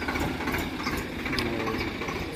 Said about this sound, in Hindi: अभी अभी आ रहा है दूसरा ट्रैक्टर,